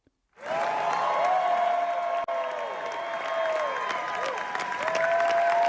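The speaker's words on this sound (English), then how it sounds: "What you're hearing is applause, but it's the sounds of opening night of Othello on Broadway recently." Opening-night applause for Othello on Broadway starring Denzel Washington: a big theater audience clapping thunderously and continuously, with scattered whoops and cheers rising above the sustained roar after a brief quiet start.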